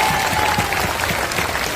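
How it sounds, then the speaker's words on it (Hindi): Applause from an audience at a talk on becoming self-reliant through social media, a steady dense wash of clapping filling the whole short stretch, fairly loud and close, with no voices over it. "एक बार इनके लिए जोरदार ताली बजाइए।"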